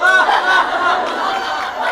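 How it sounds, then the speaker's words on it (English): An audience at a math conference session calls out together in a loud, brief burst of mixed voices. "Crowd participation."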